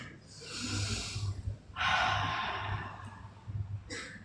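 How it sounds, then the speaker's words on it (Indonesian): Several people take slow, deep breaths together during a church healing gathering, long airy inhales and exhales swelling and fading over a few seconds, soft and close with a low hum underneath. "Coba tarik napas ya"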